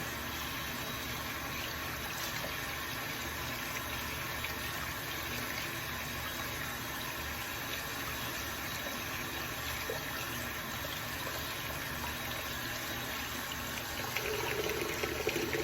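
Hot water running steadily from a tap in a sink during a straight razor shave, a constant close rushing stream that continues unbroken and fills the whole stretch, with no talking over it.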